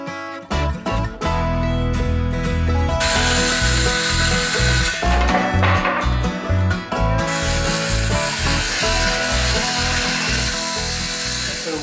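A power saw cuts through a wooden under plate for a table mount in a four-wheel camper shell. It sounds as a loud, sustained buzzing whine with short bursts and pauses as several cuts are made.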